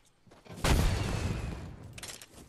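A video game jetpack fires with a sudden loud whooshing roar that rumbles and sputters for about two seconds before tapering off.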